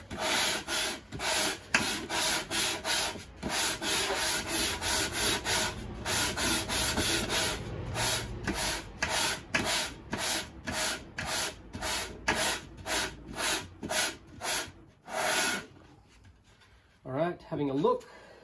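The bearing edge of a wooden Rogers drum shell is rubbed around on sandpaper to flatten its high spots, making a rhythmic series of close, gritty scraping strokes that end in a brief pause and a few softer sounds.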